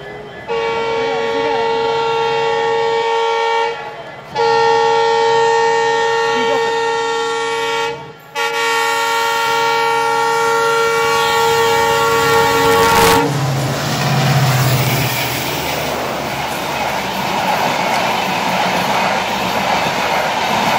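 The first Rajdhani Express in Tripura sounds a loud, sustained multi-tone horn in several long blasts. Then the train rumbles and clatters past close by.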